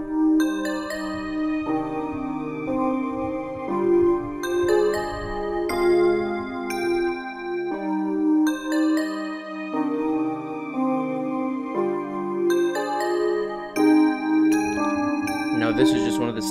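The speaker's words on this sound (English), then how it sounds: "This is just one of the standard bells that comes with Expand." Woodpecker Bells sample from the Expand plugin playing a melodic trap loop, with bright, clear bell tones ringing out in a steady repeating pattern throughout, close and upfront.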